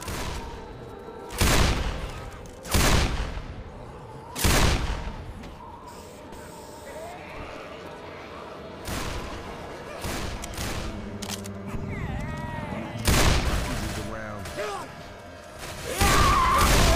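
Rifle shots ring out in Left 4 Dead 2, scattered sharp cracks with short pauses between them, over game noise and occasional talking.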